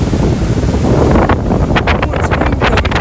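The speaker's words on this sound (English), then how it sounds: "Oh, it's windy over here, guys. It's windy." Wind roars steadily across the microphone, a dense rumbling buffet with scattered crackles and knocks in the second half.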